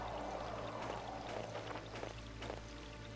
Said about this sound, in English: You can hear, like, the river running.